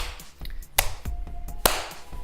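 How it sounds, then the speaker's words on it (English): Hands clap a few times inside a car in a 1989 film, irregular sharp claps over a muffled, noisy background. "Clapping. They were clapping."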